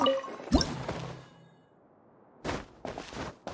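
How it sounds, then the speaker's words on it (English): A water droplet emerges from a wall in Genshin Impact with a short, sharp liquid plop, followed by a quiet pause and then a couple of brief splashy bursts. "Wow, another water droplet just came out from the wall!"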